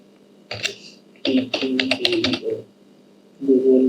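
Computer keyboard typing a browser search, quick bursts of clattering keystrokes in two runs separated by pauses, close and clear, with a voice speaking briefly at the end.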